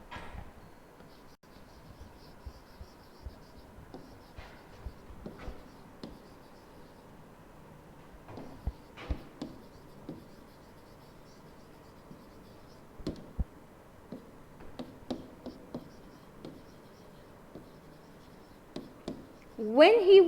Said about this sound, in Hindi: एग्जाम्पल लिख रही हूं।